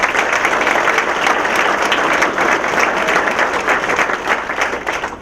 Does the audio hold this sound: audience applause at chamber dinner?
yes